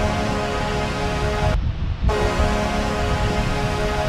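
A train horn sound effect, played as an alert during plane spotting at San Diego airport, blares as a sustained, harmonically rich tone. It dips briefly midway and then resumes at full strength.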